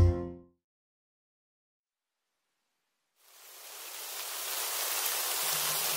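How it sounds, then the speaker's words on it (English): Rain falls in an animated nursery-rhyme scene, a steady broadband hiss that swells in after about three seconds of silence following a short musical ending. "Aw, it's raining."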